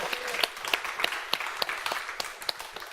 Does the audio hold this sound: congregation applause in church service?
yes